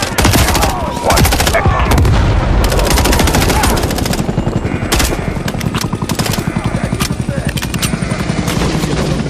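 Heavy combat in Call of Duty: Modern Warfare III, with a loud blast at the start of the breach followed by dense, continuous machine-gun fire and rotor-like thumping filling the whole stretch at close range.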